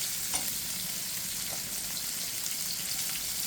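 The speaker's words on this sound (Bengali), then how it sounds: "রসুনটা প্রথমে একটু ভেজে নিচ্ছি" Garlic frying in oil for tilapia fish, a continuous close sizzle with small crackles and stirring.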